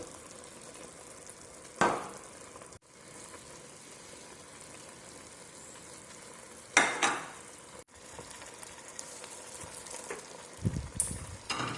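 Rice and vegetables (cabbage, carrots) sizzle in a pan for riz gras, with a steady frying hiss and two brief louder scrapes of stirring.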